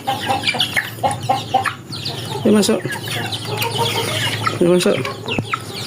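Small white chickens cluck and squawk repeatedly at close range while being herded back into their coop, with a voice urging them in between the bird calls.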